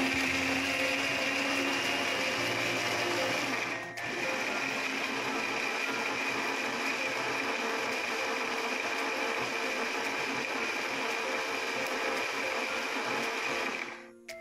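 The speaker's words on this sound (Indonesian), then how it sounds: "ini aku mau blender dulu ya guys" A blender grinds a spice paste of turmeric, candlenut, shallot and garlic with a steady, loud whirring motor, briefly pausing and restarting, then running on until it cuts off.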